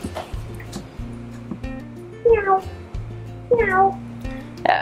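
A cat meows twice, clear and close, each a rising then falling cry, over a quiet background of soft thuds and light noises.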